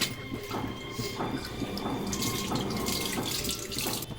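Dried salted fish is rinsed under a running tap, a steady close splash of water into a sink with soft rhythmic sloshing as the fish is handled.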